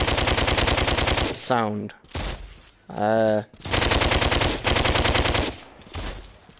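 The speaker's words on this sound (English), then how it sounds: "other than the bloody gun, which has like the same bam bam bam bam bam bam bam bam" Rapid automatic gunfire from the VR shooter DWVR, played with a PSVR aim controller, rattles in long loud repeated bursts separated by brief pauses, with a voice briefly speaking between bursts.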